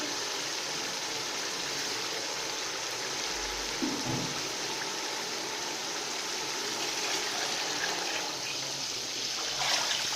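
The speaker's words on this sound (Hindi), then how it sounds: "अब हम इसमें 4 लीटर पानी लगाएंगे।" Steady rushing trickle of water pouring continuously into a pot of fried chickpeas, close and fairly loud, with no voices.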